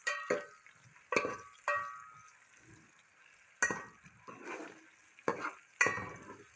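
Onions browning in a pan for a potato and aubergine dish give a faint sizzle, broken by several sharp spoon scrapes and stirs at irregular intervals.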